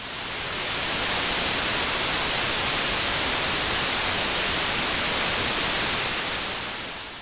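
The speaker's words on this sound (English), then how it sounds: "noise associated with electron movement randomly around any substance or conductor" Random electrical noise from electrons moving in a conductor, a steady broadband hiss like static that fades in, holds at an even level and fades out, with no voices.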